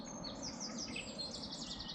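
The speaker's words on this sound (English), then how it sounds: "a lot of bird call going on around here." Several birds chirp and trill in quick, high bursts over a steady low outdoor hum, fairly close and continuous, on a walking trail in New Mills, Peak District.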